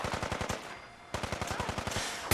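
Rapid gunfire from a sniper rifle in Fallout 4 comes as two close bursts of sharp repeated cracks, split by a short lull, loud and near with no talking.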